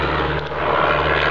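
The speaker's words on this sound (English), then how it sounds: "This is a plane." An airplane flies overhead outdoors, producing a loud, steady broadband roar that fills the brief moment evenly, with no speech.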